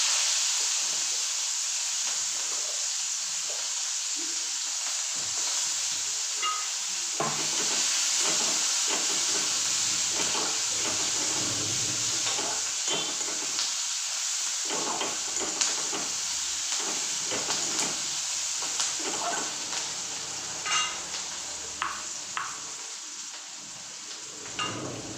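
Onions dropped into hot oil with tempering spices, a continuous soft hiss and sizzle with faint crackles and occasional utensil taps, fairly even throughout and no speech.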